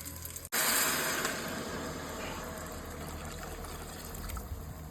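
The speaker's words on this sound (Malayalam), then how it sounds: "ഞാൻ ഇനിയിപ്പോൾ വെള്ളം ചൂടായി അതെടുത്ത് ഒഴിക്കാൻ പോവുകയാണ്" After a brief click, a steady stream of boiling water pours into a pot for chicken biryani, rushing and gurgling continuously at close range.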